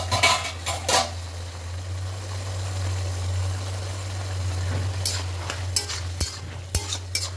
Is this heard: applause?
no